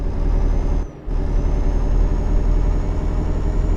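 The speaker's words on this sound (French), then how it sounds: "j'arrivais trop vite, j'ai dû freiner comme un fou" Heavy truck engine droning loudly in a driving game, with a brief dip near the start as it brakes hard approaching a toll booth, then the low rumble resumes.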